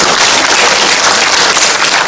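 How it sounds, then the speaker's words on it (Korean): A large audience in Jecheon welcomes a guest with loud, dense applause, an unbroken roar of clapping that stays strong and even throughout. "다시 한번 박수로 환영해 주시기 바랍니다."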